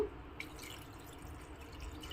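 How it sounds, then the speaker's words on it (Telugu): Water poured from a small glass into a pot of mutton for pulao, heard as a faint, steady trickle and drip of liquid with a single clearer splash near the start and no talking. "ఇప్పుడు ఈ మటన్ ములిగేలా వాటర్ వేసుకున్నాము"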